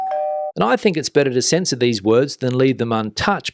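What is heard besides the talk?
doorbell sound effect used to censor a swear word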